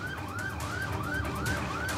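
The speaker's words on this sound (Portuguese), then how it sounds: "A polícia está acelerando nesse momento," A police car wails its siren during a manhunt, a loud, close, rapidly rising and falling yelp repeating about every half second over road noise.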